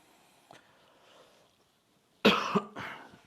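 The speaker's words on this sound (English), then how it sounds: "Sorry for the coughing." After a quiet stretch with faint background murmur, two sharp, loud coughs break out near the end, close and abrupt.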